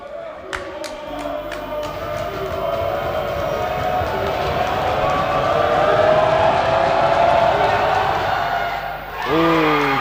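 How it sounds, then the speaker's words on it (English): A crowd in a sports hall cheers and roars through a university women's basketball game, a sustained loud swell with sharp ball bounces and sneaker squeaks near the start and a whistle-like squeal at the end. "Let's hear it from the crowd."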